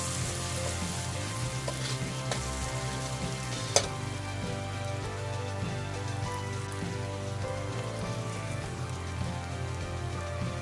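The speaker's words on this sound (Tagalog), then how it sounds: "So lutuin lang muna natin yung onion. Para lumabas yung aroma niya." Onions sautéing in a pan for a mixed seafood dish, a steady close sizzle and crackle running throughout with a few faint clinks, no talking.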